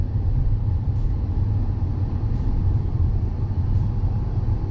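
Interior of a moving BMW with the engine running, a steady low rumble and road noise, uninterrupted and fairly loud.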